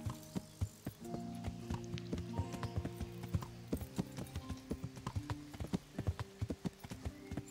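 Steady clip-clop of horse hooves at a walking pace in the video game Kingdom Come: Deliverance, crisp and close, over a soft tonal background.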